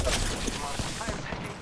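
Rapid bursts of gunfire from the Apex Legends video game crackle loudly and densely through a short stretch, with the game's sound mix thick around them.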